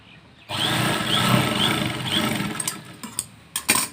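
A sewing machine stitches a new fly zip onto a pair of trousers, whirring steadily at close range for about two seconds before slowing and stopping. A few sharp clicks and knocks follow, with a voice briefly under the sound.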